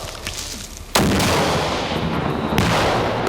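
A single sharp gunshot cracks out loud and close during military recruit firearms training, followed by a lingering noisy outdoor ambience and a second fainter blast near the end.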